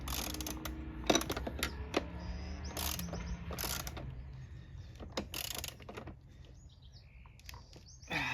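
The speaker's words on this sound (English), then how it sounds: "I'm gonna use an extension, grab onto the back of it, and then just crank her down until she's nice and tight" A ratchet on an extension tightens a bolt during 49cc scooter assembly, producing bursts of close, loud clicking strokes separated by brief pauses, with quieter ratcheting toward the end.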